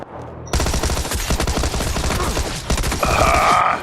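Rapid automatic gunfire from the battle royale video game PUBG rattles loudly and close for several seconds, with dense overlapping shots and a brief higher whine near the end.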